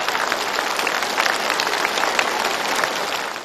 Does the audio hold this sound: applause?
yes